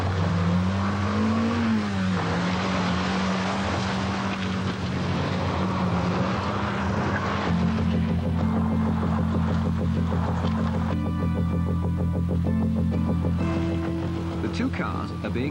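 A Volkswagen Golf, driven by a former British rally champion over a short special-stage course against a rally car, drones and revs steadily throughout, with someone narrating over the engine.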